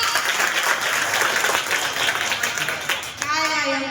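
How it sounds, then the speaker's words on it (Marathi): Loud, continuous clapping fills a kirtan gathering, then tapers off near the end as a voice begins speaking over it. "वाह, एकदा जोरदार टाळ्या होत्या"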